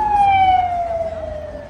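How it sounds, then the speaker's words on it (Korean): A motorcycle passes close on a busy Myeongdong street. It makes a loud, steady whine like a siren that slides gradually lower in pitch over a low street rumble. "오토바이야"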